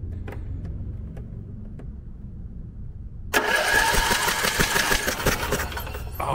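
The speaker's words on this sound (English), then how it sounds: "we're gonna spin it over, see if we got a spark here" An old Craftsman riding lawn mower engine is cranked over, starting with faint clicks and low hum before a sudden loud, rough churning that continues to the end.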